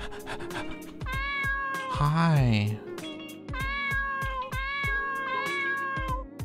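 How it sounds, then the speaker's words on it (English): Cartoonish cat meowing in the video game Dave the Diver, a few clear meows rising above a bouncy game music loop, with a short voice greeting layered over it. "Wait, there's a cat here."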